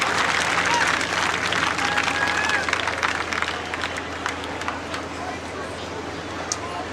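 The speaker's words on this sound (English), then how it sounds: "Give Larry Green a round of applause" A crowd applauds at a tractor pulling event in the 9500 pro field class in Mound City, Kansas, with brisk clapping that starts strong and gradually thins out while engine rumble lingers underneath.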